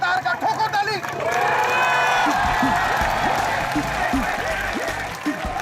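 Loud, sustained studio audience applause on a Colors TV comedy show set, dense clapping mixed with crowd cheering and babble that swells and holds steady throughout.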